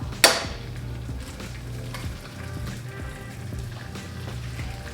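Two eggs frying in a pan for a high-protein breakfast, giving a steady close sizzle and crackle with a brief sharp crack near the start.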